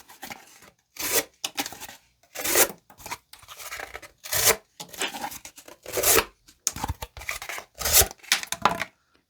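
A knife sharpened on a Wicked Edge WE40 system with 800/1000 grit stones slicing through cardboard: a series of close, loud, scratchy tearing cuts in uneven bursts separated by short silences, no speech.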